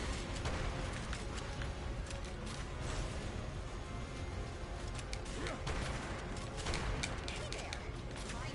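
Sustained enemy gunfire in the video game EDF: Iron Rain, a dense, loud barrage of rapid shots and blasts that carries on without pause throughout.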